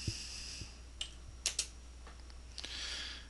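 Short bursts of computer keyboard typing as a command is entered, a handful of quiet, crisp key clicks spread irregularly over a few seconds in a quiet room, no talking.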